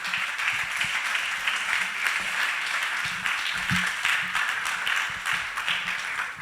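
A church congregation claps steadily after a prayer, the dense applause continuing evenly throughout at moderate level, with occasional low thumps and faint voices beneath.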